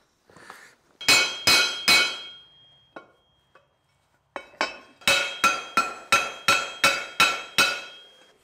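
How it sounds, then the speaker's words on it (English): Hammer blows ring on a steel anvil as rivets are tightened on a sicklebar mower ledger plate: three sharp clangs, a pause with light taps, then eight evenly spaced, loud, close strikes. "I'm just going to put this on the anvil, and then we'll smash the bottom side of these to tighten the rivets"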